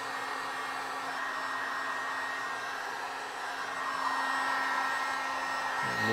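A heat gun blows steadily on 40-year-old motorcycle plastics, a continuous close airy roar with a slight shift in tone partway through, with no talking.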